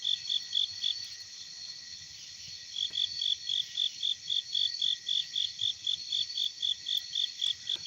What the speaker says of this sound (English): So what you're hearing right now is, the loudest one is a cricket.